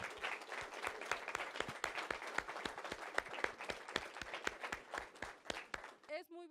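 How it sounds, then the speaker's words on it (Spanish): Audience applause for teachers at a school pollinator-garden event, steady rhythmic clapping from a modest group heard up close, fading out at the end as a voice begins. "si nos regalan un aplauso para todos los que están presentes y los que no están"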